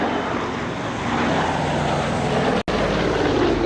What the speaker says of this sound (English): seeing such a big aeroplane being manoeuvred at low level like this